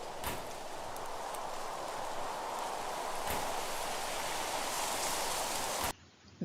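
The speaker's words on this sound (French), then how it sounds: "il pleut à verse" A heavy downpour hisses in a dense, even wash of rain, close and continuous for several seconds before cutting off abruptly near the end.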